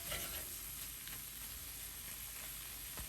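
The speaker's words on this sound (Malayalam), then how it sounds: "മുളക് പൊടിയെല്ലാം ഒന്ന് 1 മിനിറ്റ് വഴറ്റിയെടുക്കാം." Chili powder sautéing in oil in a pan for a shrimp fry gives a steady, soft sizzle with faint stirring scrapes, close and alone.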